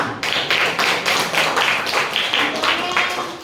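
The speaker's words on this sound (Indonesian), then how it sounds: "tepuk tangan untuk kelompok 5" Classroom applause for a student group that has just finished presenting, made up of rhythmic clapping with repeated bursts in a steady pulse. It is fairly loud and close, filling the room.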